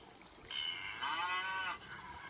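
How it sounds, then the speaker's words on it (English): A cow moos once in a long, drawn-out call lasting over a second, clear and fairly close against a quiet background with no talking. "Cow."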